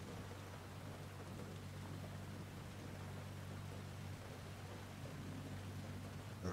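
Pouring rain in the racing game Forza Horizon 5, a steady, even hiss of heavy rainfall with a low continuous hum beneath it, holding constant throughout with no talking.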